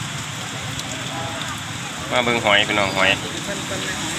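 Rain falls steadily at a roadside shellfish stall in Da Nang, Vietnam, a continuous soft hiss under someone talking loudly over it.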